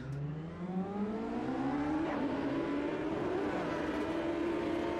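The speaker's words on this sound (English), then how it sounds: "You got the gearbox whine when you let off the throttle." A Champ Car engine in the AMS 2 racing game revs and shifts continuously with gearbox whine, its rising and falling harmonic tones sweeping steadily and loud, with no talking.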